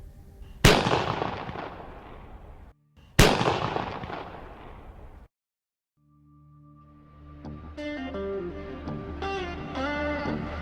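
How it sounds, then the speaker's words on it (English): A bird-scaring cannon fires two loud, sharp booms a few seconds apart, each trailing off into a long echoing decay, followed by a steady tonal hum and rising tones. "letting off cannons behind me, which could go off at any point"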